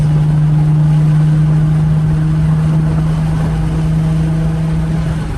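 Nissan 350Z fitted with a cheap eBay aftermarket exhaust, cruising at about 85 mph: a loud, steady low engine drone with road and wind roar, unbroken and constant throughout, with no talking.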